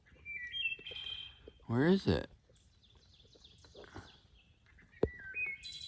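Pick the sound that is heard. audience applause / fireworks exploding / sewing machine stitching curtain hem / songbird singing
songbird singing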